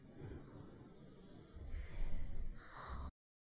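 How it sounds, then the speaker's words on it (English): Heavy, close breathing in a cosmic horror video game: a few raspy, snorting breaths and gasps that swell louder toward the end before cutting off abruptly. "I hear breathing."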